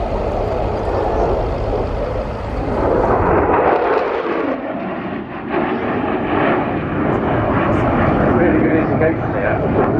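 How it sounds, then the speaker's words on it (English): An F-16 Block 70 Viper fighter jet in a flying display at the RIAT Air Tattoo airshow roars past loudly, its engine rumble shifting as it passes, with a commentator talking over it. "The new Block 70, representing the latest standard of F-16."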